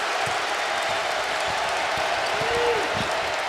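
A basketball arena crowd roars in a steady, loud wash at Ohio State versus Wisconsin, with a commentator's voice over the noise.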